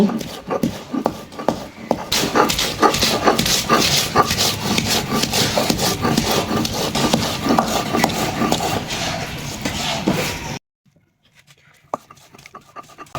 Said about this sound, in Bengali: এবার পোটলের শসাটা আমি বেটে নিব